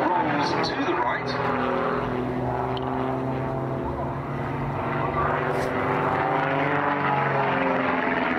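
Aerobatic aircraft at the Duxford air show running in and pulling up for upward rolls, a loud sustained propeller-engine drone with shifting pitch, under a commentator talking over a public address system.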